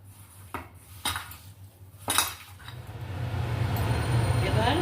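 Soybean snack mixture being mixed by hand in a kitchen: a few sharp clinks of utensils against a bowl early on, then a steady low rustling, wet churning of the mixture, with someone speaking over it.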